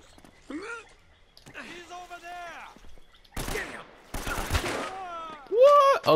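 A pistol in Uncharted: Drake's Fortune fires two quick flurries of sharp, crackling shots, close and loud, set between stretches of someone talking.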